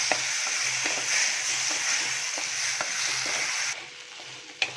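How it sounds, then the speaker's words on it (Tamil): Shallots and tomato frying in a pan for a village-style country chicken curry, a steady close sizzle with regular stirring scrapes, ending in a brief quieter stretch and one sharp clink. "இப்போ பாருங்கள், வெங்காயம் தக்காளியெல்லாம் நல்லா வதங்கிடுச்சு."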